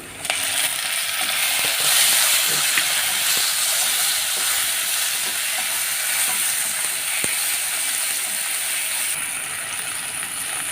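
Tomatoes dropped into a hot frying pan while cooking a taro and coconut dish, a loud, bright, hissing sizzle that holds steady throughout with small clinks of stirring, close up and without talk.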